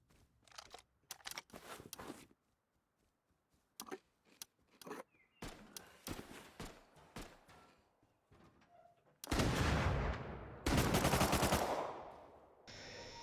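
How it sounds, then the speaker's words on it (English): Gunfire in the video game Rust on PS5: bursts of rapid automatic shots and single cracks, sharp and loud, separated by short silences, ending in two long, heavy sustained volleys. "It all started with those few gunshots I heard outside, knowing there was somebody there."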